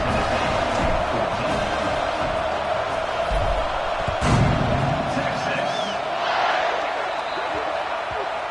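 Stadium crowd in a video game American football match roaring before the kickoff after an extra point, a dense steady wall of cheering and shouting that holds loud throughout.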